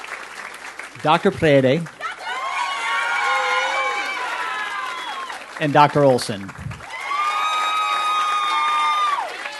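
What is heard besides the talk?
audience applause and cheering at hooding ceremony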